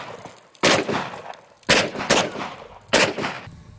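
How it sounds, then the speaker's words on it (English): Three sharp, loud gunshots from a .410 shotgun and a .45 Long Colt fired at targets, spaced about a second apart, each ending in a short ringing decay, with no talk. "I'm going to fire the second round of the 410 into the target on the left"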